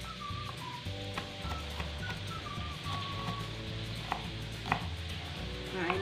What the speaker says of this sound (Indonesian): bawang merah, bawang putihnya Bunda mau dipotong kecil-kecil dulu ya, teman-teman, supaya lebih gampang untuk menghaluskannya